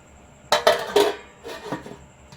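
A lid set onto a pot of pumpkin curry with a few metallic clanks and rattles, close and fairly loud, then a softer clink as it settles.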